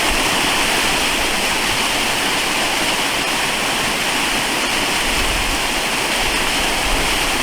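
A waterfall roars in a steady, loud, broadband rush of falling water, unchanging and close, with no voices.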